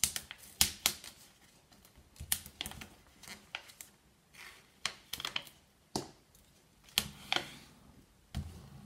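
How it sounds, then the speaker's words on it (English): Vinyl backing paper being peeled back by hand gives irregular bursts of crisp crackling and snapping, close and quiet, with short pauses between the pulls. "I've peeled this back just onto itself"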